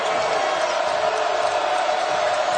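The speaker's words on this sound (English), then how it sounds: "Here comes that crowd." Basketball arena crowd at a Baylor Bears versus Oklahoma State Cowboys college game, a steady loud roar of cheering and whoops filling the space throughout, with no clear voices standing out.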